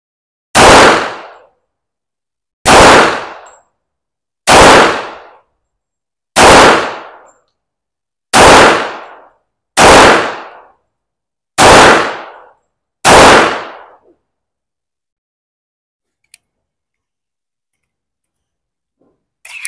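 A Springfield Armory Emissary pistol fires eight loud, sharp shots spaced roughly two seconds apart, each with a short ringing tail, followed by several seconds of near silence.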